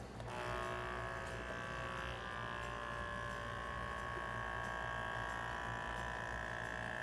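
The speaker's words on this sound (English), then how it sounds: "let's vacuum this. Get all the air out of there." A vacuum blender steadily pumps air out of a jar holding watermelon, lime and ginger, giving a continuous buzzing, humming motor drone with a bright whine, loud and close and unchanging throughout.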